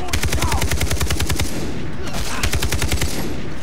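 Sustained automatic gunfire from a gun in Far Cry 3, fast evenly spaced shots in two long bursts with a short pause between, loud and close.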